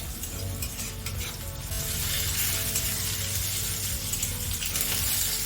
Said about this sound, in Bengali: পেঁয়াজটা আর বেশি ভাজবো না অলরেডি একটু ডার্ক ব্রাউন হয়ে এসছে